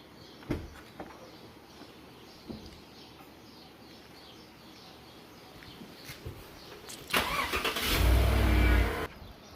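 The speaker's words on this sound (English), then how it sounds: "I'm going to go start the car, let it run for 30 seconds or a minute" A car being started after an oil change: a few faint knocks and clicks, then a loud engine start near the end that settles briefly into running before cutting off, with no talking.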